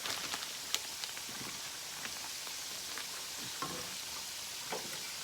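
Turkey chops frying in a pan with a bit too much oil: a steady, soft hiss of sizzling oil with occasional sharper pops and spatters, faint and continuous, with no talking.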